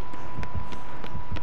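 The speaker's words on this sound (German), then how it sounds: "höre Herzklopfen" Heartbeat from the Dead by Daylight video game, set in the Haddonfield map: low, muffled thumps in a steady doubled rhythm, about three beats across the moment, under a constant tonal hum with no talk.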